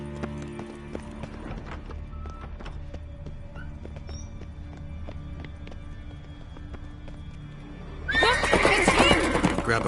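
Horses in The Witcher 3 game trot with a steady clip-clop of hooves under a low ambient hum, then a loud, close neigh and snorting burst out near the end.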